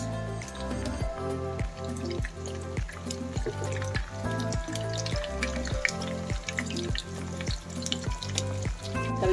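Hungarian sausage sizzles in a pan for sizzling sisig, a steady loud crackle and spatter of frying fat running throughout, close and continuous with no talk.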